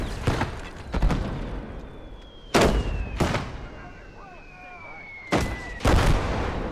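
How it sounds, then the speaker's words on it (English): Mortar rounds and gunfire in the World War II video game Gates of Hell, several loud, sharp blasts and reports spaced a second or so apart, with whistling incoming shells descending between them over a rumbling battlefield background. "They're mortaring back."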